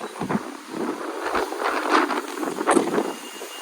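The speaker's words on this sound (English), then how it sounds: "check the wind" Heavy wind gusts buffet an outdoor microphone abroad in the UK, a steady roaring rush with rising and falling surges throughout, no voices over it.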